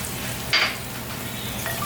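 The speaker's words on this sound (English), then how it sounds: "Give that a quick stir" Coconut rice with raisins and diced dried pineapple stirred in a hot pot, a steady close sizzle with a brief bright scrape of the spoon partway through; no speech.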